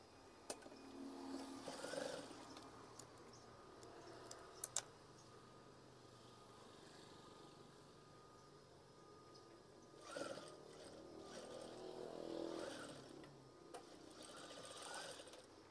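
A sewing machine stitches a swag hanging curtain in quiet bursts, a soft run near the start and another around the end, with faint mechanical ticks between stretches of near silence.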